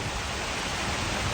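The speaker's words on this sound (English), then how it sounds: "So yeah, it's raining now." Rain falling during a lightning storm near a barn, a dense, steady hiss of drops that is fairly loud and close, with no talking.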